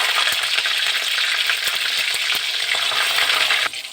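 Green chilies and cumin frying in hot oil in a wok, a dense continuous crackling sizzle with sharp spattering pops, close and loud, easing slightly near the end.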